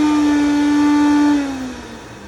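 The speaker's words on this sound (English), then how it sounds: "All right, that's my blender." A kitchen blender whirs loudly at a steady high pitch close by, then its motor winds down and the tone drops as it stops.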